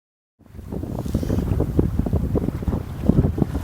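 Strong wind rushes over a sailboat on Loch Fyne, reefed with the jib partly rolled, starting after a brief silence and building into steady gusty buffeting against the microphone.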